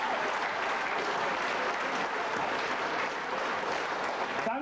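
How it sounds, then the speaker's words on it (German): Dense, steady applause from an audience at the horn sledge European championship awards in Villanders, loud and continuous for nearly five seconds before tapering at the end. "ich glaube schon, dass ihm deshalb von uns allen ein aufrichtiger Applaus gebührt"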